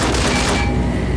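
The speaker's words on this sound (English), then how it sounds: "M25 Gatling laser produced to spec by Glassinghouse Inc. is deadly against soft targets at medium range" Securitron M25 Gatling laser from the game Fallout New Vegas, a loud, dense burst of rapid firing that fades out quickly over about a second.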